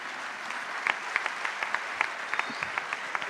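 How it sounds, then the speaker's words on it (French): Steady applause from a conference audience giving a standing ovation fills the space, with sharper individual claps popping out above the continuous patter. "Je vous demande de vous lever et de l'applaudir"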